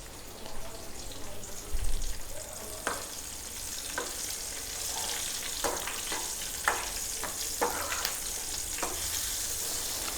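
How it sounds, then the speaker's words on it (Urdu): Tadka of desi ghee with ginger, curry leaves and chillies frying in a pan, a constant close sizzle broken by several sharp spatters and stirring clicks, no talk. "اور بہت مزے کی خوشبو آ رہی ہے دیسی گھی کی، ادرک کی، اس میں جو کڑی پتہ ایڈ کیا اس کی۔"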